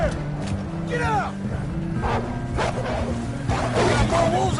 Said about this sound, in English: We got more wolves on the left.